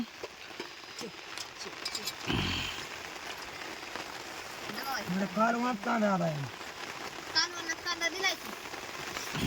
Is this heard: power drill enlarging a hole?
no